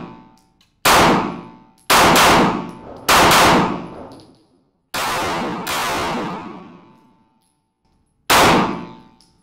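A Glock pistol fitted with a Radian Ramjet micro compensator fires about six sharp, loud shots with clanging echoes, spaced in an uneven rhythm, some in quick pairs.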